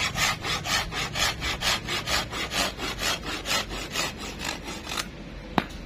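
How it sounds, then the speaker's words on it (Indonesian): A hand saw cuts through a thick bougainvillea stem during a Singapore bougainvillea harvest, giving about a dozen steady back-and-forth rasping strokes close up, then stopping, followed by a single sharp click. "kita gergaji ya."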